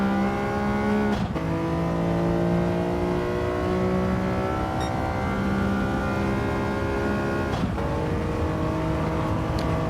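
A resto-mod car held flat out through a turn on a track, its engine droning loudly and steadily at high revs, with two brief dips where the note shifts before it resumes.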